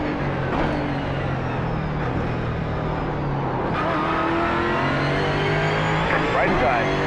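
Race car engines roar continuously in the iRacing sim, Mustang GT4 cars at the Charlotte Roval, with a faster car sweeping past and pitch shifting as it goes by, over voices talking.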